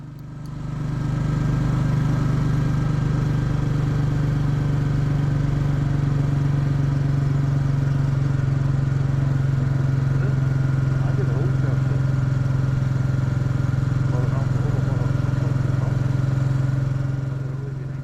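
Royal Enfield Classic 350 single-cylinder engine thrumming steadily while riding on a commute, a loud, constant low drone with wind noise throughout and faint talk underneath.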